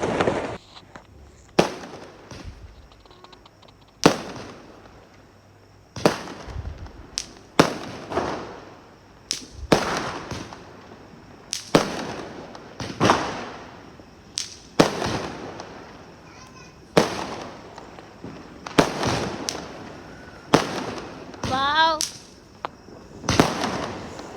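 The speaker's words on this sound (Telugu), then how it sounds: "ఇవన్నీ క్రాకర్స్ కాలవడం అయిపోయిన తర్వాత" Diwali firecrackers burst one after another in sharp, loud bangs, roughly every second or two, with echoing tails and a few faint voices between.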